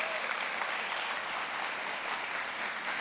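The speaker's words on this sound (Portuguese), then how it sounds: "Vamos aplaudir o nosso Padre Jonas." A church audience applauds a priest, a steady wash of many hands clapping, loud and sustained across the whole moment with no clear voices.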